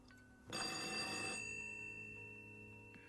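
A telephone bell rings in a single burst lasting about a second, then its tone lingers and fades. It is fairly quiet and heard alone, with no voices.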